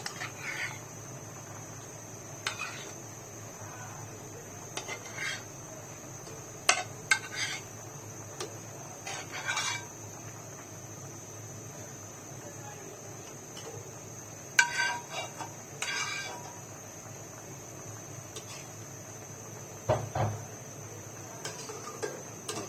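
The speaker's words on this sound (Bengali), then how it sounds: "এখন একটু ভালো করে মিক্স করে নিচ্ছি মাছের সাথে সবজিগুলোতে" A utensil stirs fried fish into simmering curry with ridge gourd in a pot, giving quiet, intermittent clinks and scrapes against the vessel over a soft bubbling background, with no talking.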